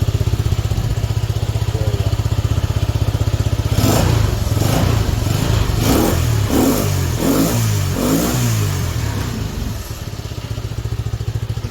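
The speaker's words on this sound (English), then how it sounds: "If you rev it up" A Honda XL motorcycle idles steadily, then its engine is revved in a series of sharp throttle blips before it settles back to a low idle. The bike is close by and no one speaks.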